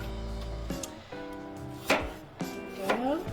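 A knife slicing Honeycrisp apples on a cutting board, several crisp, close chops in an uneven rhythm, each with a sharp woody knock.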